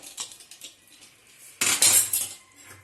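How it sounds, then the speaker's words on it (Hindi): Light metallic clinks early on, then a sudden loud burst of rattling metal and a hissy rush as a pressure cooker lid comes off after cooking chickpeas for chana masala. "हम कुकर का ढक्कन खोल देंगे।"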